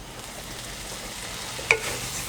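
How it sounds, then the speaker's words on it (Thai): Large shrimp stir-fried over high heat in a pan for spicy glass noodles, with a steady close sizzle and one sharp clink of a utensil against the pan. "เนี่ยผมผัดจนกุ้งเริ่มสุกนะครับ"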